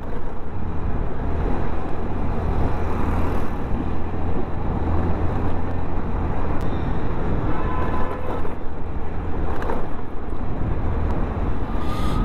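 Loud, steady Mumbai road traffic rumbles throughout, heard as constant engine and tyre noise from a moving Activa scooter, with no talking.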